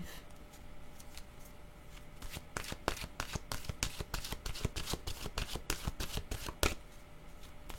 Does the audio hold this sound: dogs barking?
no